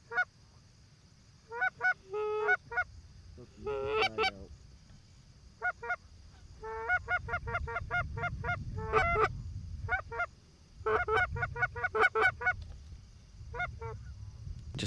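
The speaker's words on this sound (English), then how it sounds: "Just had a flock about a dozen fly over, pretty high." A flock of about a dozen geese honks while flying high overhead during an early-season hunt, with repeated nasal calls in irregular bursts, moderately distant over a low background rumble.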